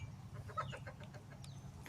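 Chickens cluck softly and intermittently in quick, scattered calls on a cattle ranch, faint against a low steady background hum.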